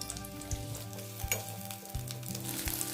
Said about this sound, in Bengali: এবার এই পেঁয়াজটাকে কিছুক্ষণ খুব ভালোভাবে ফ্রাই করে নেব